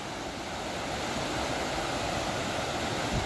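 Rapids on the Scantic River rushing in a steady, dense roar of whitewater, loud and continuous throughout with no voices.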